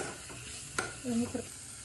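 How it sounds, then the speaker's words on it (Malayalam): Chicken roast is stirred in a pan, with soft scraping strokes over a faint, steady sizzle and a brief louder scrape midway, quiet and close with no talk. "നന്നായി ഇളക്കി കൊടുത്തോളൂ. നന്നായി വഴറ്റി നോക്കാം."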